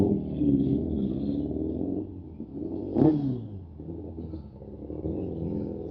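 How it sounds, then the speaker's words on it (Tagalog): Rush-hour traffic on a busy road, recorded on an Insta360 mic air: a steady low rumble of many engines with one louder vehicle passing close in the middle, heard alone without talk. "maraming mga sasakyan kasi rush hour"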